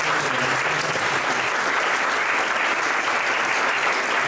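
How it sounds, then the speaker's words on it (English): An audience at a digital investments conclave at a business school bursts into sustained, dense applause, a loud unbroken wash of clapping filling the hall for several seconds. "Give a big round of applause to sir."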